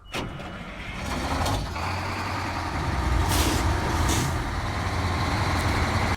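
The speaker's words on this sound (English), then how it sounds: "Some trucks, like the Longhorn 4520, sound gravelly and awesome like a big diesel engine should." Gravelly diesel truck engine from the Snowrunner video game, a big rig such as the Longhorn 4520, rumbling steadily and loud with a sharp air-brake hiss near the start and rising revs, no talking.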